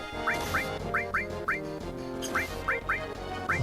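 Bird calls in Final Fantasy VII during a walkthrough of the Wutai area: a series of short, bright squawks repeat in quick irregular bursts over looping game music.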